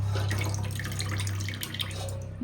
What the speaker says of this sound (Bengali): জলটা ভালো করে ছেঁকে নেবো।